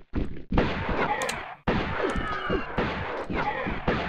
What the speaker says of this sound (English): What the heck am I shooting at here? Oh my goodness, my shotgun is off today.